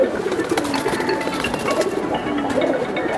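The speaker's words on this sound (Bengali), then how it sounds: "এই যে এই দুইটা হচ্ছে বেজির বেবি, বেজি কবুতর" Young Bezi pigeon chicks give soft, repeated cooing calls up close, steady and fairly loud across the whole stretch, with no talking.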